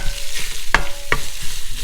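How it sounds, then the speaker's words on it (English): Sausage sizzles and crackles steadily in hot oil in a pan, with two sharp clinks of a utensil against the pan. "Sausage in, frying away."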